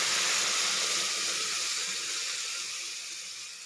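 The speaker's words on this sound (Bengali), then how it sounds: "এরপর আমি এখানে দিয়ে দেবো যে তরকার ডাল, সেটা দিয়ে দিচ্ছি" Tarka dal pours into a hot pan for a dhaba-style tadka dal, making a broad, steady hiss and rush of liquid that slowly fades as the pour eases off.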